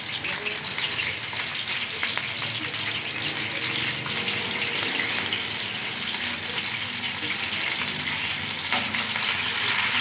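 Chicken pieces frying in hot cooking oil for a chicken malai handi, a loud, continuous close sizzle and bubbling hiss lasting the whole stretch.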